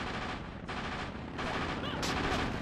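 Gunfire in the video game Castlevania: Legacy of Darkness rattles on as a dense, continuous, loud barrage of shots that shifts in intensity over a few seconds.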